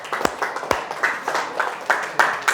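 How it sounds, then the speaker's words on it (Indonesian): Students in a classroom give a short round of applause: uneven bursts of claps rise and fall in quick succession at close range, with little talking over them. "Oke, kasih tepuk tangan dulu untuk kalian semua"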